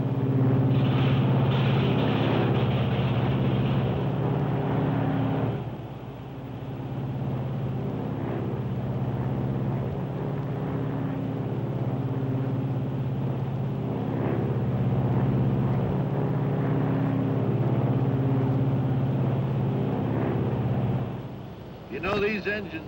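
A 1953 Lockheed Super Constellation airliner's engine unfeathers and runs, giving a steady droning propeller hum with a shift in pitch partway through, under continuous talk.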